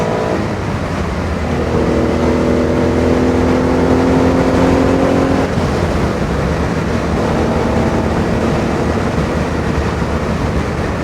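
A 1967 Fiat Dino Spider 2.0 pulling hard on the road, heard from the passenger seat: a loud, continuous engine drone with rising harmonic tones as it accelerates, then a shift and steady running under wind and road noise.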